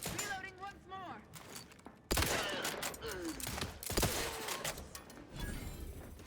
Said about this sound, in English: This lever action rifle's pretty nice.